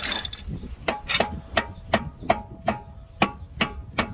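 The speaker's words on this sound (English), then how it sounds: "Rubber mallets are great when you have to smack things around." Rubber mallet knocking on brake parts during a brake job on a second-generation 1994–2002 Dodge Ram pickup: about nine sharp, evenly spaced strikes, roughly two or three per second, close and fairly loud, with no talk over them.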